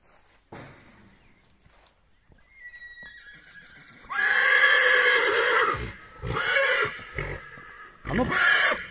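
A Percheron stallion being led toward a mare gives a loud, drawn-out whinny followed by shorter snorting neighs close by, with brief hoof sounds and people talking in between.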